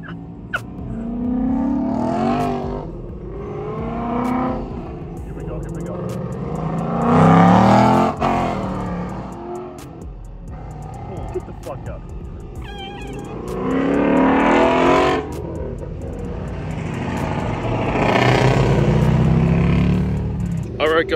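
An Audi R8 sports car drives by at Mustang Week at the Myrtle Beach Mall, Myrtle Beach, its engine rising and falling in several loud revving surges over crowd noise, with people talking throughout.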